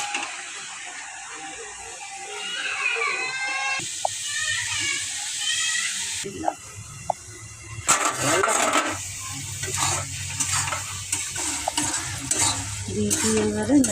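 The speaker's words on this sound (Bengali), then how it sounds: "ধনে জিরের গুঁড়ো, কাশ্মীরি লঙ্কার গুঁড়ো, এগুলো ঢেলে খাসির চর্বিগুলো ঢেলে দিলাম।" Goat fat and ground coriander, cumin and Kashmiri chilli powder sizzle in a hot pan while being stirred, close crackling with scraping strokes, joined partway by a voice and background clatter.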